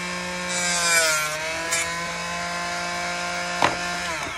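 A hand saw cuts through a wooden paint stir stick held in pliers, a close, loud, scraping rasp with tonal ringing that runs throughout and ends in a sharp snap.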